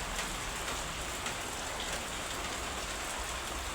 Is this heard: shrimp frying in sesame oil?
no